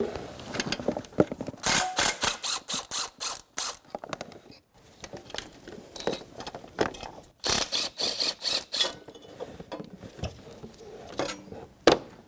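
Ratchet wrench with a 13mm socket loosening airbox bracket bolts on a 1997-2006 Jeep Wrangler 2.4L L4, rapid clicking bursts in repeated strokes with short pauses, close and fairly loud.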